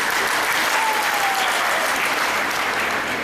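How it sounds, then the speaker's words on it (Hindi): Steady, dense applause from a crowd at a political speech fills the whole stretch at an even level, with no break and no talk on top. "तालियां ऊपर से ना बजाओ, क्योंकि तालियों से फायदा नहीं है।"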